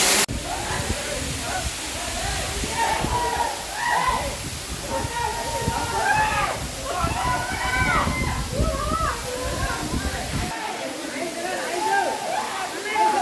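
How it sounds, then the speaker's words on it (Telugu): The Boykatka waterfall near Araku pours down in a loud, steady rush of splashing, hissing water, with voices heard over the roar throughout. "bye కట్క water falls"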